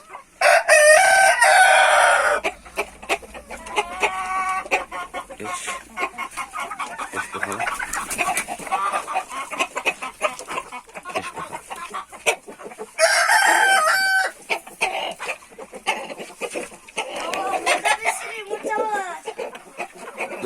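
Roosters crow loudly in bursts near the start and again midway, with hens clucking and chattering throughout and people talking faintly underneath.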